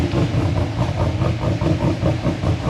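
Loud, close engine idling roughly and unevenly after a new performance cam kit, cold at about 1,000 RPM, giving a choppy, loping pulse that repeats steadily with no voices.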